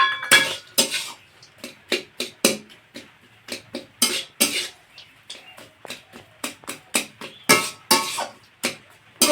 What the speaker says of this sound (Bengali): আলুটা দিয়ে মশলার সাথে খুব ভালোভাবে এইভাবে খুন্তি দিয়ে মিশিয়ে নেব।